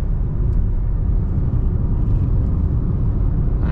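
Steady low electric drivetrain hum and road rumble from a 2023 Nissan Ariya 63 kWh electric crossover accelerating, heard from inside the cabin, constant and fairly loud with no talking.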